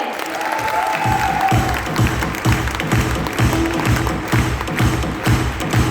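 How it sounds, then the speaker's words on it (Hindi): An audience claps in rhythmic unison at a Modicare direct-selling business presentation, steady regular beats of moderate loudness in a hall, joined by a faint tonal sound near the start. "तो एक बार जोरदार तालियां बजा सकते हैं मोदी केयर के लिए।"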